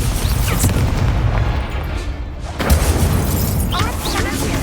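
A Confringo spell erupts in Hogwarts Legacy on Xbox Series X: loud, rumbling booms and crackling blasts build into a dense burst, with a voice shouting over the fiery impacts.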